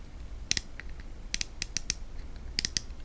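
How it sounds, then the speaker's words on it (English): Several light plasticky clicks from a Shimano Chronarch CI4 baitcasting reel being turned by hand, arriving in short close bursts with quiet gaps between them. "it's kind of got this plasticky click sound"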